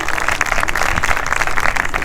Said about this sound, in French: On commence juste par s'échauffer en applaudissant Charles